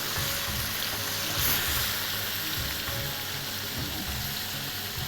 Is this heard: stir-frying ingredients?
yes